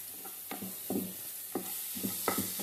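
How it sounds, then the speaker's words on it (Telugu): Carrots for carrot rice fry softly in a pan, a low steady sizzle broken by several light stirring scrapes at irregular intervals, faint and close with no talking. "ఒక 2 మినిట్స్ వేగితే సరిపోతుంది."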